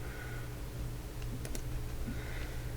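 A few quick, quiet computer mouse clicks sound in a calm room while chart indicators are switched off in TradingView.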